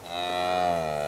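A single cow or calf lets out a loud, close moo lasting about a second, clear and steady, alone without talk, in a summer field of cattle and smart calves in Cockerington.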